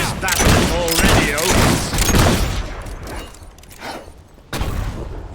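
Battle gunfire from the video game Fable 3, dense bursts and booms rolling through the first few seconds, easing off, then a sharp loud crack near the end, with voices talking amid the fighting.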